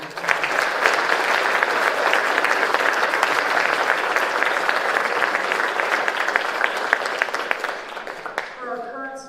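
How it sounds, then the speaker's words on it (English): An audience at a college athletics hall of fame induction ceremony gives sustained, loud applause filling a hall, tapering off at the end as a voice begins. "please give them a round of applause."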